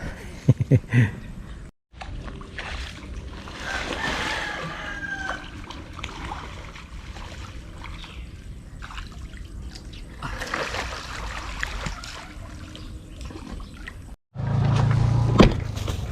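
A thin, weak trickle of water runs steadily, with a few brief knocks and a louder rumble near the end.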